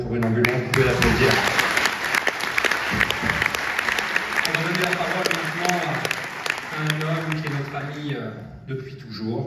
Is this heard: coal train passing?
no